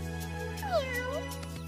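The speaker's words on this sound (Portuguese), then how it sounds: "E o melhor lar para o gato do deserto?" A cartoon desert cat gives a single drawn-out, rising and falling meow, clear and close over steady background music.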